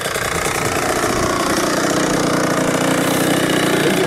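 A dirt bike engine runs steadily and loudly close by, its throttle held and eased in a continuous rough drone with no pauses.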